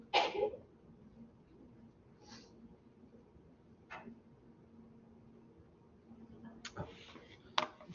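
A single short sneeze bursts out loudly at the very start in a quiet lab room, followed by faint clicks and small handling noises.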